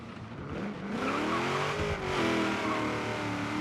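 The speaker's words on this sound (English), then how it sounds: "Not a third gear scratch, only a second." Chevy SS in the Forza Horizon 3 video game pulling hard, engine revving and rising in pitch with a short tire chirp as it shifts gear, loud and close throughout.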